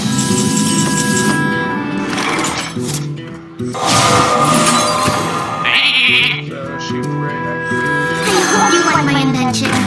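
Sheep bleating in the Hearthstone card game, a loud synthetic bleat over game music and effects.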